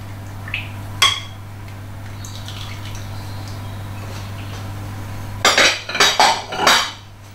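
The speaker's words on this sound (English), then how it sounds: "I find it's easier if you mix them both in together and then mix the whole mixture." Cupcake batter and melted butter being stirred together in a bowl: a spoon gives a few light clinks early on, then a close cluster of clinks and scrapes against the bowl near the end, over a steady low hum.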